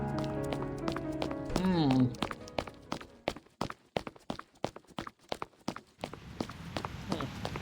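Quick running footsteps in the video game Reverse: 1999 hit in a fast, regular rhythm of sharp close steps, following a brief musical tone and a short rising sweep.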